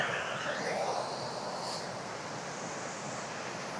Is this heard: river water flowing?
yes